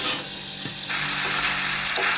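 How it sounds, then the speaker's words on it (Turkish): Loud, continuous sizzling of meat chunks frying in melted butter in a hot lidded pan, a bright crackling hiss with a few small knocks, close up. "et parçalarımızı eritmiş olduğumuz tereyağının içine atıyoruz"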